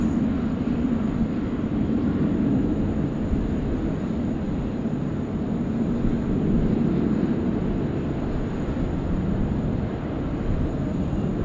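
Jet engines on an Air China airliner spool up while taxiing at Sydney Airport, a loud continuous low roar that holds steady throughout with a faint high whine on top.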